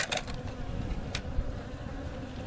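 Honey bees buzz around sugar feeders set on hives for winter, a faint, continuous drone of wings close by, no voices.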